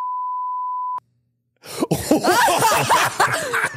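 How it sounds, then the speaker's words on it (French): A censor bleep, one steady pure tone lasting about a second, cuts off sharply, then after a short silence people react loudly with laughter and exclamations. "On va biper le nom."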